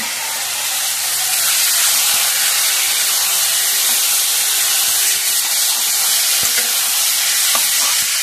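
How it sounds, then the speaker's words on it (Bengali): Dry red chillies and nigella seeds sizzle in hot oil for tempering, a steady close frying hiss with faint stirring scrapes and small crackles. "কচুর জন্য ফোড়নে দেবো শুকনো লঙ্কা, কালো জিরে আর পরিমাণ মতো কাঁচা লঙ্কা"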